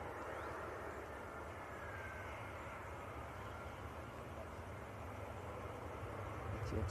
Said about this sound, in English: Next arrival, just touching down.